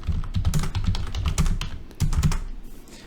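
Rapid, uneven bursts of keystrokes on a computer keyboard as a column name is typed into Power BI, close and clear with short pauses between clusters of taps.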